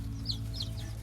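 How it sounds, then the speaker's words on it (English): Small Wyandotte bantam chickens in a backyard coop give three soft, high clucks in quick succession over a steady low hum, fairly close and moderately quiet. "I got some little Wyandotte Bantams in here right now."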